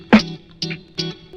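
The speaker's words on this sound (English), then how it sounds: "And then I put this drum bus, so that adds some boom, some crunch, some drive" Drums run through a drum bus plugin adding boom, crunch and drive in a lo-fi beat, three punchy hits with a distorted, raspy tone and short decays, alone.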